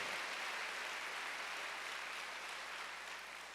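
A church congregation at a Wednesday worship service claps together, a steady broadband roar of many hands that is continuous and even, heard at a distance and slowly tapering.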